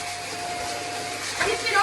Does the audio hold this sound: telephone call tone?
no